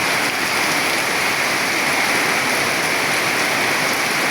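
A heavy rainstorm roars in a constant, loud wash of falling water, dense and even throughout with no voices or breaks.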